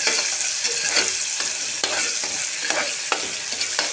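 Tomatoes sautéed in a pan for sambar rice, a loud continuous sizzle of frying with regular scraping strokes from stirring, heard close up and without talk.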